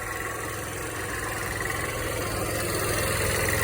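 An RKS Premium 125 motorcycle engine idles steadily nearby, a constant low rumbling drone with a fast even pulse and no voices.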